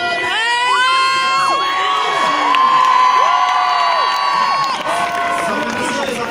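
A large live audience at a French fan event for YouTubers roars with loud, sustained cheering, whoops and shrill shouts, a dense wall of voices that carries on for several seconds.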